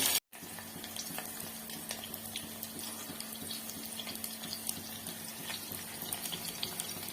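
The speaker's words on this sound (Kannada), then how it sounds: "ಈರುಳ್ಳಿ ಸ್ವಲ್ಪ ಫ್ರೈ ಆಗಬೇಕು" Onions frying in a pan for green palav, a steady broadband sizzle with faint crackles throughout, fairly loud and continuous after a brief cut at the start.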